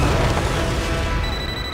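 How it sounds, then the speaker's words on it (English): Explosions in the Megamind video game, heard as a dense, loud, rumbling wash of booms filling the whole moment with no distinct separate blasts and no talk. "Yeah, we just heard the explosions."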